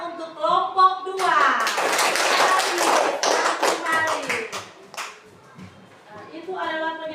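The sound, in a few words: audience applause for group 2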